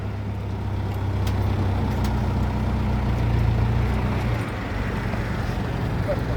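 An old, smoky vehicle engine runs after being started on ether, a steady low idle with a strong droning hum and rough rumble, a few brief clicks and a voice over it.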